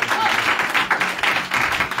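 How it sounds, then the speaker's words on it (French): Applause from a small group of friends, a steady dense patter of clapping heard close, with voices mixed in beneath it. "Oh, applaudissez les amis"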